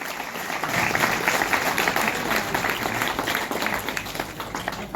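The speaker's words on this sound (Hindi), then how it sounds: "एक बार दिल खोल के तालियां बजा दीजिए सभी के लिए" Applause from a theatre audience after a stage drama, steady and fairly loud clapping across the full stretch with a dense crowd texture.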